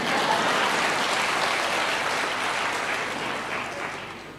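A church congregation applauds during a sermon, a dense, steady wash of many hands clapping that holds loud for several seconds, then thins slightly toward the end, with no talk over it.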